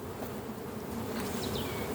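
Honey bees drone in a dense, continuous buzz at an opened hive colony, heard up close, with a few individual bees whining past near the end.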